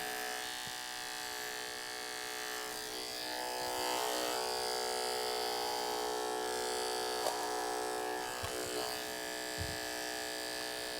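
Electric hair clippers buzz steadily and close up, their motor tone bogging slightly as they cut through thick hair, with no talking.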